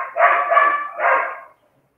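Several female dogs bark close and loud, two rapid bursts of overlapping barks over about a second and a half, with no one speaking.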